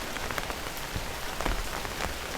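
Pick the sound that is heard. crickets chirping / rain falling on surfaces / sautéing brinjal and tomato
rain falling on surfaces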